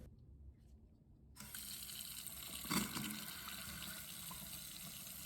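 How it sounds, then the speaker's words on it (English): Tap water runs steadily from a bathroom faucet during a small half-bath remodel, switching on abruptly and then flowing as a continuous, fairly close hiss with one brief louder splash partway through. "let's go ahead and turn the faucet on"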